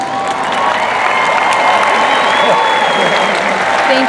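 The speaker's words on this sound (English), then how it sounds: "A round of applause for your families and your friends." Graduates and guests at a university graduation ceremony applaud families and friends, a loud, sustained wash of clapping mixed with crowd noise and some cheering, with voices murmuring through it.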